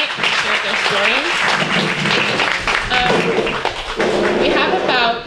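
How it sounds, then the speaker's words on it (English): Applause from an audience at a community town hall meeting, a steady dense wash of clapping filling the room for several seconds, with voices mixed in throughout. "Can we get one more round of applause for all the people that spoke tonight and shared their stories?"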